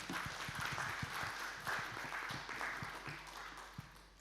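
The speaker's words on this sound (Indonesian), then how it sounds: "kita beri aplaus buat Hera ya" An audience claps for a speaker at a talk on mental health. The applause is faint, scattered and uneven and lasts about four seconds.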